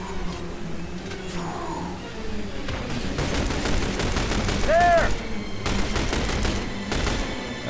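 Rapid bursts of gunfire in the video game The Bureau, with a base on fire, rattle in close volleys over a noisy battle bed, with a sharp whistling tone midway and shouting voices mixed in.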